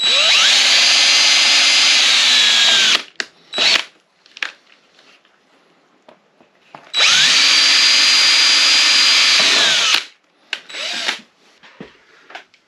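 Two long bursts of a power drill whirring at high speed, drilling holes in luggage mounting parts for a KTM 1290 Super Adventure motorcycle, each about three seconds, separated by clicks, handling noises and quiet pauses.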